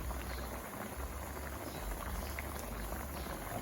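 Red curry with doctor fish simmers in a pot, giving a dense, continuous bubbling and fizzing that stays steady and moderately quiet throughout, with no voices.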